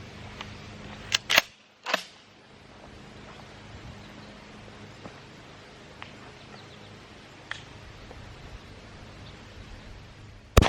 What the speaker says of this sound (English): I'm going to fire 2 shots and we'll see how it goes